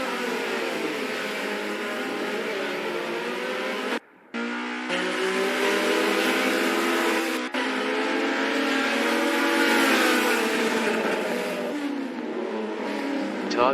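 Several race cars, one of them a Mazda RX-3, roar off the line together in a virtual racing game, with loud sustained engines shifting pitch as they accelerate, a brief break near four seconds, and no talk over them.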